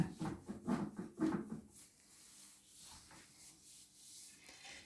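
Baklava dough pressed and rolled out by hand at the edges, a soft rubbing, thumping rhythm of several firm presses early on, then quieter faint handling, close and alone.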